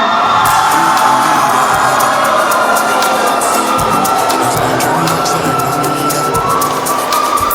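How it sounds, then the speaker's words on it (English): A large debate-competition audience cheers and whoops loudly and continuously after a speaker, with rapid clapping and shouts filling the whole stretch. "a round of applause for your last speaker"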